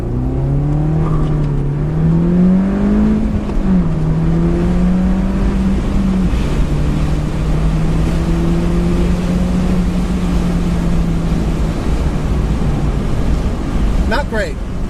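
A 2013 MINI Cooper S Roadster launches hard from a standstill, its engine note climbing loud and steady through the first gear, dipping at a shift and pulling again under continuous rushing wind noise.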